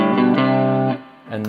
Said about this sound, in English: let's put a little bit of drive on. And that's the neck pickup.